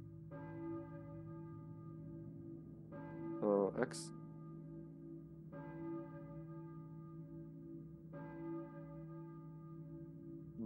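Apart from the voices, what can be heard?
church bell ringing in Silent Hill video game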